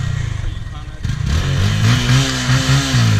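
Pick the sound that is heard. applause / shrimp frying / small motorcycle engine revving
small motorcycle engine revving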